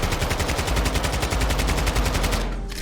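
Assault rifle fire in Call of Duty: Modern Warfare II rattles in one loud, continuous automatic stream of rapid shots, cutting off briefly near the end.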